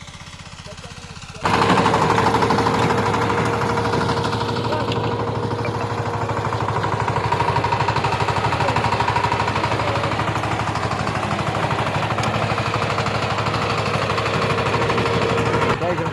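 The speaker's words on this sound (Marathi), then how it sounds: "त्याच्यामुळे व्हायब्रेट होतं ट्रॅक्टर" A tractor engine running and vibrating up close, a loud rapid mechanical chug that starts abruptly after a quiet opening and continues steadily to the end.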